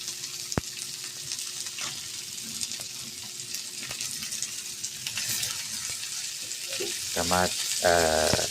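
Steady sizzle of eggs frying in a pan with occasional scraping stirs, close by; a voice speaks briefly near the end.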